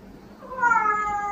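A kitten that has just woken lets out a single clear, rising meow partway through, close and fairly soft against a quiet room.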